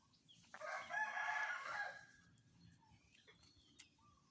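A black-and-gold rooster with yellow legs crows once, a loud clear call near the mic lasting about a second and a half, followed by a quieter tail and faint farmyard background.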